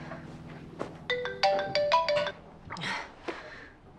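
A phone rings with an incoming call during a noisy restaurant dinner with clients, playing a bright melodic ringtone of quick stepped tones that rises between quieter stretches.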